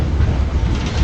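A train arriving at Mangalore Junction railway station, heard as a loud, steady rumble with a rolling clatter of wagons, close by and with no voices.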